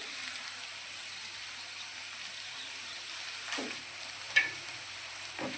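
Potato chips frying in a pan throw off a quiet, even sizzling hiss, with a few soft clinks near the end and no talking.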